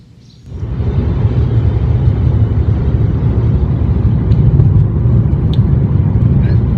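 A car drives along a highway, a loud steady rumble of engine and road noise from inside the cabin that swells in after a brief quiet start and holds constant.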